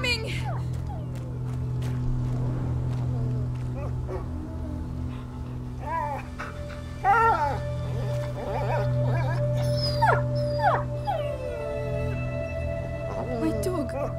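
Dog whimpering and yipping in the video game A Plague Tale: Innocence, a few thin cries over a low droning score, with voices speaking in between.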